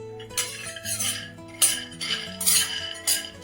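A spoon scrapes and clinks against a metal pan while peanuts and sesame seeds roast over a low flame, bursts of stirring arriving every half second or so, close and clear, with a faint ringing tone from the pan between strokes.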